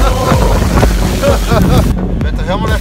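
Strong wind on an Alpine hiking trail buffets the microphone in loud, continuous roaring gusts, with heavy low rumble throughout and a person talking over it.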